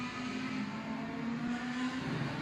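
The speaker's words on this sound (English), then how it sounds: "Lots and lots and lots of highly tuned engines in the background." Highly tuned racing car engines drone continuously at a steady high pitch at the Haynes Motor Museum, a dense mechanical hum filling the background with no pauses.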